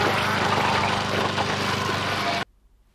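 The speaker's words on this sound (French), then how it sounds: "la scène de la tondeuse à gazon dans le salon" A loud, steady engine drone like a running lawn mower, continuous and close, cutting off abruptly near the end.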